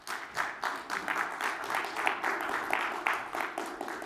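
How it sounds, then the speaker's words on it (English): A conference audience applauds steadily for several seconds, many hands clapping in a dense, even patter with no voices standing out. "Round of applause for Ralf, guys."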